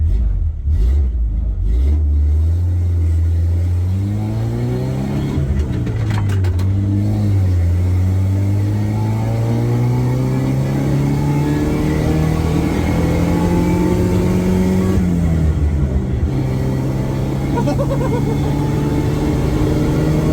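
A Suzuki Sidekick project car's engine pulls hard through the gears while driving, its close, loud drone climbing in pitch, dropping at each shift and rising again.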